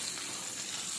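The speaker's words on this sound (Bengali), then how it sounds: "এটাও ভালোভাবে ভেজে নেব পেঁয়াজটা" Chopped onions, 500 grams, frying in a pan for mutton curry, a brief, soft, steady hiss of sizzling.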